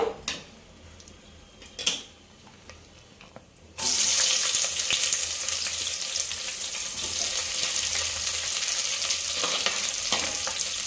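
Chopped onions frying in hot oil in a home kitchen while palak biryani is cooked, starting with a few faint clinks, then a loud, steady sizzle that keeps going with occasional stirring scrapes.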